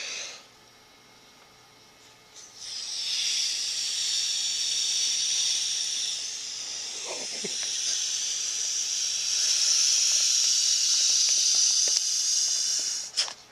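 An inflatable Luminaid PackLite solar lantern being blown up through its valve, long steady breathy hissing close by, with a brief pause and a soft thump.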